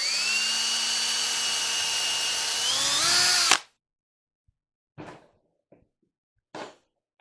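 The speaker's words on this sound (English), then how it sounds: "And I'm going to drill a pilot hole." A power drill whirs loudly and steadily for a few seconds drilling a pilot hole, its pitch dipping as it bites, then stops; a few faint knocks follow.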